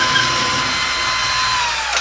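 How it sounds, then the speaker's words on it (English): A power drill drives a screw into hollow drywall for a bathroom shelf install, a steady, loud whirring hum that holds for two seconds before spinning down at the end. "I can feel the drill as it clears through the drywall"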